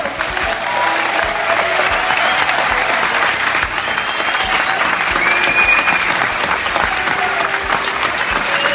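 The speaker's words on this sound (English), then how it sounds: "could you please give a round of applause to Dr. Levitt?" Audience at a party applauding an honored guest, a full, loud burst of continuous clapping that holds steady throughout, with faint crowd voices mixed in.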